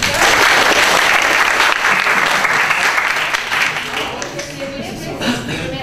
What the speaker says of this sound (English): Let's give another round of applause to our remarkable speaker.